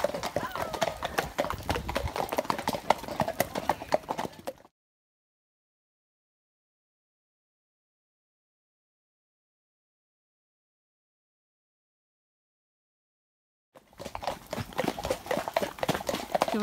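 Horses' hooves clip-clop at a steady walking rhythm while riders hack out through snow in freezing weather. The hoofbeats sit under the talk of riders and fill the opening and closing seconds, with a long silent gap between them.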